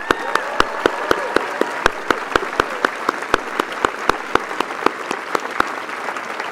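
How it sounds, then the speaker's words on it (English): A commencement audience at Knox College in 2015 claps for the graduates' parents, a sustained round of crisp, evenly paced applause filling the hall without speech. "I think they deserve a round of applause"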